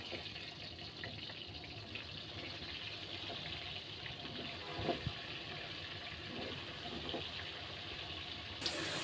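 Pointed gourd (potol) pieces fry in hot oil in a wok, producing a loud, continuous broadband hiss with a few brief louder spatters.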